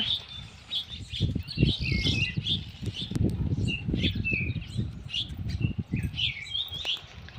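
A small yellow bird chirps in quick, bright bursts throughout in a home garden, over a steady background of low rustling and soft thumping.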